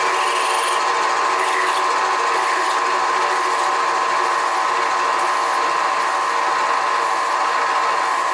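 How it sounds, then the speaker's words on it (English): A drill bores into a soft, leaded steel machinist clamp, a steady, loud mechanical whir with a constant tone holding throughout, alone without talk. "So let's see about drilling it."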